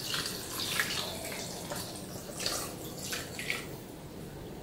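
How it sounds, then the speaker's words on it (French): Water poured onto rice for homemade rice milk, a continuous close splashing and trickling stream with some bubbling surges, fairly loud and unbroken. "Donc, je verse de l'eau à l'intérieur."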